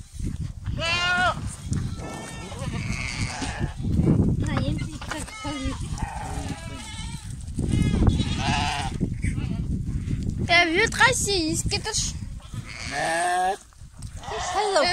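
Goats bleating repeatedly as a boy catches them on a farm, the wavering cries rising close and loud between stretches of people talking.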